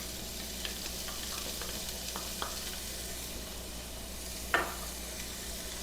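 Chopped onion sizzling in a pan for shrimp risotto, a steady close frying hiss with a few light clicks and one sharper clatter near the end, no talk.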